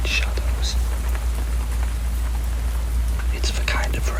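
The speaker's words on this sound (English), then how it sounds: "It's the kind of rain that drowns out all other sounds, the kind of rain that isolates you completely" Steady rain falls at night, a dense continuous hiss with scattered drop patters, close and even throughout, with no voices.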